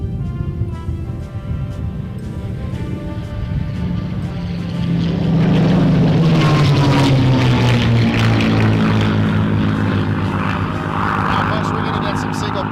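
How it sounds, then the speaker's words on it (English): Supermarine Spitfire and Mustang warbirds roar past together at an airshow, their piston engines swelling from a distant drone to a loud, close pass with a falling pitch; an announcer talks over the start. "Another pass, this time from the left, the Timmerman's legacy of flight, Supermarine Spitfire and Mustang."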